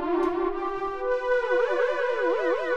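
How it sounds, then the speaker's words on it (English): A sustained synth note starts steady, then an LFO makes its pitch wobble up and down in a regular vibrato-like sweep, clear and prominent. "What you're hearing right now is actually the LFO"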